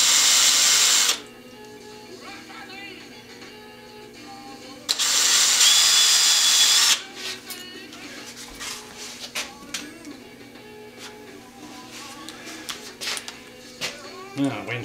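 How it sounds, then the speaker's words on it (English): Two loud bursts of a power drill whirring as it drills two small holes for bearing screws on a homemade vacuum chuck, separated by a pause, followed by lighter tool clatter and handling noises. "we're gonna drill, ooh, that looks good, 2 little holes."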